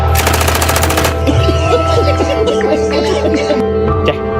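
A rapid machine-gun burst of gunfire sound effect rattles loudly for about a second at the start. Voices speaking follow once the shooting stops.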